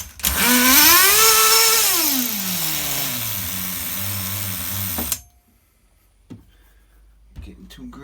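A nitro engine in an HPI RS4 RC car, an F150 truck with a hot glow plug, revs loudly with a falling, wavering pitch as it settles to a rough idle. It cuts out abruptly near the end, leaving a few faint knocks.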